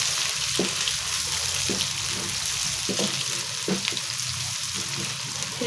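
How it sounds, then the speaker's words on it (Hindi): Fresh-cut green garlic and green chillies fry in hot oil for a fish head curry, giving a steady close sizzle broken by a few soft clinks and scrapes of stirring. "ये इसके अंदर मैं डाल रही हूँ हरा लहसुन। ये फ्रेश जो काटा हुआ था इसके बाद डाल दें हरी मिर्चें"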